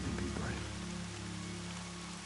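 Rain falls in the video game Horizon Zero Dawn as a steady, dense, loud hiss that fills the whole stretch without a break, with a low tonal hum underneath.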